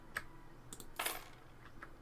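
Computer keyboard keys clatter in the House Flipper video game, a handful of faint, sparse clicks and taps spread across a quiet moment, with no voices.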